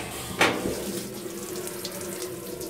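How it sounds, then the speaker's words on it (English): Water pouring steadily into a washing machine for a load of colored laundry with detergent added, a continuous close rushing flow with a brief splashy surge near the start. "I add the detergent and then add the water."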